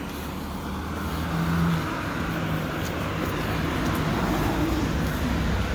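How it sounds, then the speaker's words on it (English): A 2700 series LFS city bus passes on a street near a railway bridge in Saint Henri, Montreal, on a mild February day, a steady broad engine and road rumble that swells slightly midway amid surrounding traffic noise. "2700 series bus."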